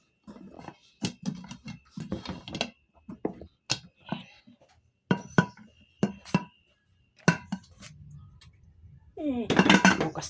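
A cooking pot is handled on a home kitchen stove while rice cooks for breakfast, giving a series of close, irregular metallic clanks and clinks with short gaps between them, ending in a brief burst of rustling hiss.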